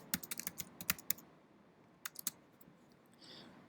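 Quick bursts of computer keyboard typing while a folder name is entered for packaging InDesign files, close and crisp, with a pause mid-way and a short second flurry of keystrokes.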